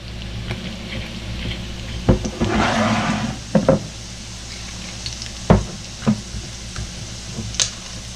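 Sesame seed oil sizzling steadily in a pan as shrimp and vegetables stir-fry, a continuous hiss with a few sharp clatters and bursts of louder frying, no talking.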